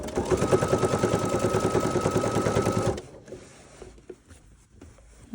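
A sewing machine with a binding foot stitching along the edge of fabric binding, a fast, even mechanical rattle for about three seconds, then stopping into quiet handling noise.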